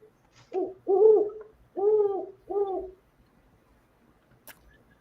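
A great horned owl call plays from an electronic bird book: four deep, hollow hoots in a quick rhythm, the middle two longest, clear against a quiet room with a faint click afterward.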